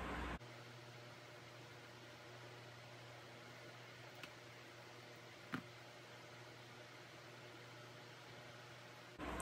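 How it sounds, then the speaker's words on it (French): A household electric fan runs steadily in a room, a soft, even whooshing hum that holds constant throughout, faint and alone, with a couple of tiny clicks. "c'est mon ventilo"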